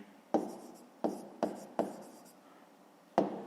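A pencil on paper while working a fifth-grade math exercise, heard as five short, distinct scratching strokes spaced unevenly across a few seconds in a quiet room, close and fairly soft.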